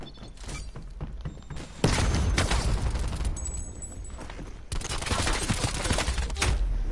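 Gunfire in Call of Duty: Black Ops Cold War multiplayer, a dense burst of shots and loud sustained firing with impacts, close and heavy, with a brief quieter pause between volleys.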